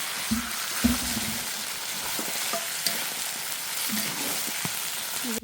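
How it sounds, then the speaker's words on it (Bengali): Water poured into a hot pan of braised meat, a steady broadband sizzle and hiss with a few louder bursts and stirring scrapes near the start, running continuously close by. "এবার সে মাংসটা কষানো হয়ে গেছে গা এখানে জল দেবো"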